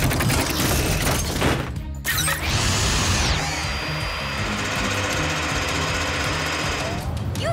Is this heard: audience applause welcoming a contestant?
no